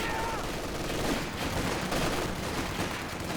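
Sustained automatic gunfire from a machine gun in the real-time strategy game Company of Heroes 2, a dense, continuous rattle of rapid bursts mixed with other battlefield shots, steady and loud throughout.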